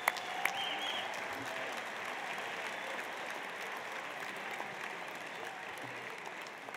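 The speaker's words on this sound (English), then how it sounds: "please give a warm round of applause for these members of the 2016 Walter Camp All-America team" Sustained applause from a large crowd at a football awards dinner, steady and even throughout, with a few scattered claps standing out near the start.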